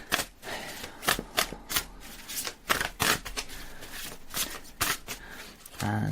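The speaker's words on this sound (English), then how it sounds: "I'm going to shuffle in the same way as I have just done there" Tarot cards are shuffled by hand in a series of quick, crisp riffling bursts and soft slaps, repeated at a brisk irregular rhythm, close and fairly quiet.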